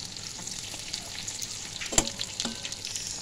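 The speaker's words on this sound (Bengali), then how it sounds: "রাঙালুগুলোকে বেশ একটু লাল লাল করে ভেজে নেব।" Sweet potatoes frying with fennel and chili give off a steady close hiss of hot oil, with a couple of faint clicks and one sharper tap partway through.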